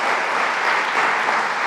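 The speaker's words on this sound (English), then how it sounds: "All of you up there, give yourselves a round of applause." A crowd gathered at a Spokane STEM event breaks into dense, continuous applause, a full even wash of many hands clapping throughout.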